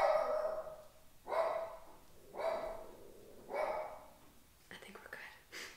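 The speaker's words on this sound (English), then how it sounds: "Why are you barking like crazy?" A dog barks four times at an even pace, fairly close, then softer yips and short sounds follow. No one speaks.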